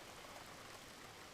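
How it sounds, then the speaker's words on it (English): Steady rush of falling water in an anime episode, a soft continuous hiss like rain or a stream, faint and unbroken throughout. "Water falling."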